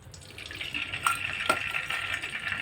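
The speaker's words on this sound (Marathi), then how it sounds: "गॅसवरती पॅन तापत ठेवलेलं आहे, त्यामध्ये हे तूप घालूया" Ghee is poured into a pan heating on a gas stove, making a soft, close liquid trickle with a faint sizzle. Quiet light crackles rise briefly midway through.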